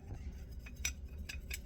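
A honey offering mixture being stirred in a glass, with a few sharp light clinks of utensil against glass spaced over a second or two and a low room hum underneath.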